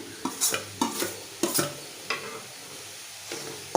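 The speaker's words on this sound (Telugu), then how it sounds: "వీటిని కూడా కొంచెంసేపు ఫ్రై చేసుకుందాం" Capsicum and mixed vegetables fry in a pan with a soft sizzle, while a spatula stirs and scrapes in several distinct strokes, close and fairly quiet.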